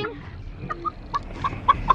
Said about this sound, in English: I've always wanted to have a silky chicken.